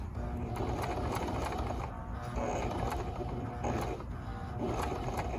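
A sewing machine stitching a fabric face covering near a metal nose grip, with a steady mechanical whirring and rhythmic clatter that pauses briefly and restarts several times, heard up close.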